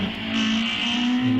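A race car powering up the Wiscombe Park hillclimb course, its engine holding a loud, steady note that climbs in pitch as it accelerates through the bends.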